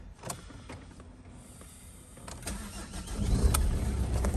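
A Ford diesel car with a six-speed manual gearbox cranks and starts, a brief starter whir followed by the engine catching and settling into a louder, steady idle close by, with no talking.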